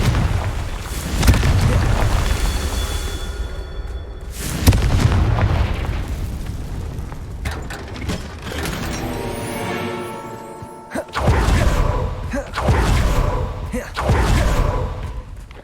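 Confringo spell blasts in Hogwarts Legacy burst out as several loud, booming explosions with sharp onsets and rumbling tails, separated by quieter stretches with faint game effects, one tonal shimmer in the middle.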